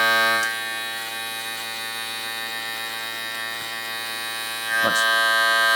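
An electric hair trimmer buzzing steadily and close during a barbershop haircut, a constant hum that dips slightly as it meets the hair and swells again near the end.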